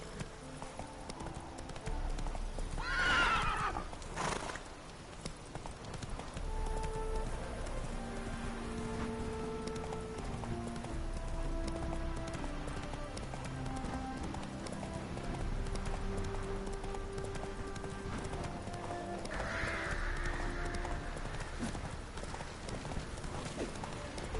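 Geralt's horse Roach in The Witcher 3 trotting through rain, with steady clip-clopping hooves throughout, a brief whinny early on and a patter of rain behind.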